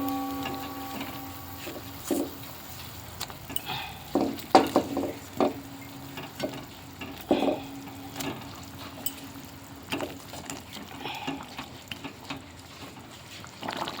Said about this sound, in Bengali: ঝোলটা ফুটে গেছে, এবার মাছগুলো সব দিয়ে দেবো।